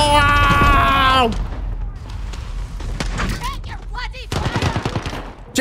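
Gunfire in a Call of Duty match: dense broadband bursts of shots and booms, a loud volley at the start followed by scattered shots and rapid rattling, with someone shouting over the noise.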